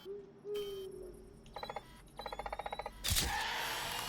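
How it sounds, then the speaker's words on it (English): An owl hoots inside a night-time ghost-hunting game, a series of rapid pulsed hoots in two bursts over a quiet ambient background, followed by a sudden loud noise. "Did you hear that owl?"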